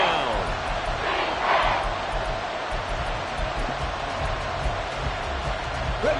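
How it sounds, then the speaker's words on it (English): A packed stadium crowd at an NFL football game roars in a loud, steady wash of cheering that swells briefly and holds throughout. "This crowd turning up the decibel level."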